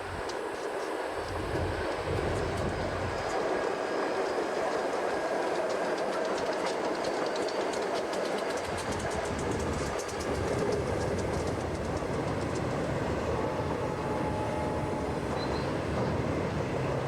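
A Union Pacific or Southern Pacific freight train rolls past along the Mississippi River, a long steady rumble and rattle of wagons with rhythmic wheel clatter, fairly distant and continuous.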